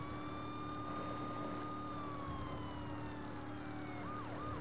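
A wailing police siren in the video game Saints Row sweeping up and down steadily, mixed with a constant engine drone, sounding like a game soundtrack.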